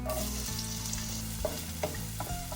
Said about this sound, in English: Add a little bit more olive oil, and then we'll toss in our onions.